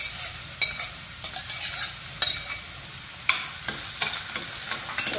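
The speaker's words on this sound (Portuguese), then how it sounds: "Aí no molho branco, vou fritar a cebola também" Onion fries in oil and margarine for a white sauce, a steady close sizzle broken by repeated scraping stirs of a utensil against the pan.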